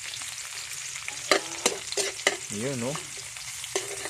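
Garlic sautés in a pan with a constant sizzle and sharp clinks of a stirring utensil, while a voice speaks briefly partway through.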